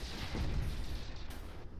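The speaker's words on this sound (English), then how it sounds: "this thing's still shooting missiles" Missile launches in the space strategy game Stardrive 2 come as a low rumbling boom with a muffled burst, fairly loud, over a dense background of space-battle noise.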